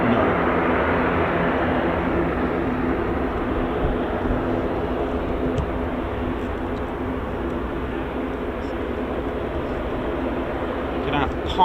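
Heavy military jets, a C-17 and a P-8 Poseidon, arrive at RAF Fairford for the Royal International Air Tattoo with a steady, loud engine roar, while a voice talks over it throughout.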